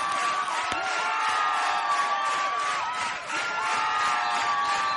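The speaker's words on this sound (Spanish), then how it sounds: "el pueblo de Alarcea estalló en aplausos y gritos" Crowd of villagers bursting into applause and cheering as flames leap up in a staged drama scene, a dense, steady roar of many voices and clapping holding at full level throughout.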